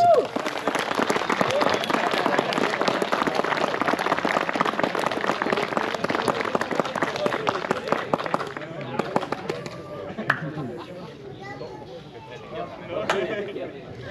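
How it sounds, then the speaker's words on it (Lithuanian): At the awards ceremony of the 2025 Kupiškis Mini Rally, an outdoor audience claps in a dense burst of applause that fades after several seconds while a presenter talks over a loudspeaker. "Ir audringi aplodismentai"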